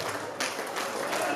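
Applause at a 50th birthday party, a steady wash of crowd clapping that swells in waves across the short stretch, loud and close.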